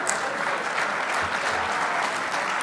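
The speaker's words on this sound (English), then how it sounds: "big round of applause for your junior champs" An audience at an RC racing world championship awards banquet applauds junior champions with dense, steady clapping that fills the room throughout, without a break.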